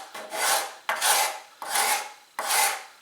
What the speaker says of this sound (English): My next attempt was to go ahead and take my rasp, and yes, I'm able to work these pieces down no problem.